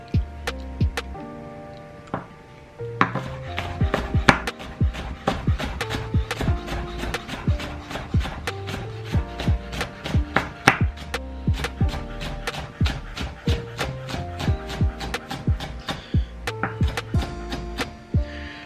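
A knife cuts rapidly on a cutting board while ingredients are prepared for Hawaiian-style salmon poke. The crisp, close taps come in a steady, busy rhythm that continues almost without pause for nearly twenty seconds.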